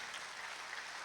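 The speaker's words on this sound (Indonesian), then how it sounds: "Berikan tepuk tangan bagi Allah." A church congregation at a revival service claps together, a faint, dense, even patter of many hands sustained for about a second without talking.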